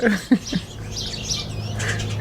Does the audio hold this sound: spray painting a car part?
no